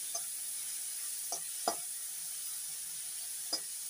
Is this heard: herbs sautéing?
yes